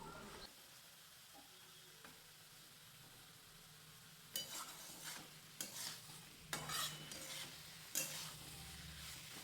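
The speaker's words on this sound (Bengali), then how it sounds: "পালং শাকের মধ্যে যে জলভাব রয়েছে ততক্ষণ পর্যন্ত এটা নাড়াচাড়া করে নিতে হবে" Spinach and potatoes stirred in a pan, a quiet sizzle running under sparse scraping strokes that grow louder and more frequent in the second half, with several distinct clinks of the spatula against the pan.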